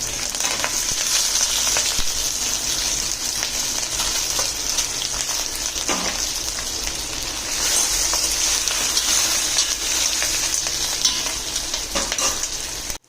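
Vegetable balls stirred and fried in hot oil with cumin, asafoetida and curry leaves, a steady close sizzle running throughout with scraping stir strokes and no talking.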